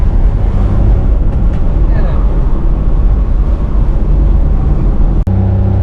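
A Smart ForTwo car's small engine drones loudly and close with a buzzy, motorbike-like tone, rising and falling slightly, with some talking mixed in.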